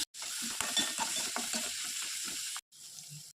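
Onion, green chillies and tomato stir-fry in a pan over a tempering of cumin, mustard seeds and asafoetida, with a continuous hiss and repeated spatula scrapes, then a short pause and a quieter burst of sizzling.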